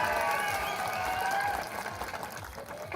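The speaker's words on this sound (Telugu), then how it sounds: "ఒక్కసారి గట్టిగా చప్పట్లతో స్వాగతం" Crowd applause at a political rally welcoming a speaker, a dense wash of clapping that swells then thins over a few seconds, heard at a distance.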